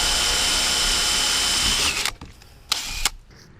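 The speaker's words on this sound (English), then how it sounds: "let me drill them all" A power drill whines at high speed while boring holes for a recovery point on a Nissan Xterra, running loud and steady before stopping, followed by two brief bursts of the motor.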